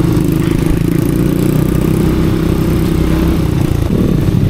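Off-road motorcycle engines rumble steadily at close range, a loud continuous low drone with a slight rise in pitch near the end, no voices.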